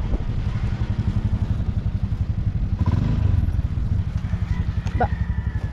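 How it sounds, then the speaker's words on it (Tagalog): A motorcycle rides along a rocky road near a riverside campsite in Laguna, its engine a steady mid-pitched drone with rattling clatter from the rough ground, continuous and fairly close. "Parang may motor."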